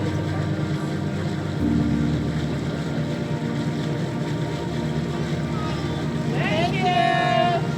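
A steady low engine drone and rushing wind fill the clip aboard the Ranger III passenger ship on Lake Superior out of Houghton, Michigan, with people talking over it and a brief rising whine near the end.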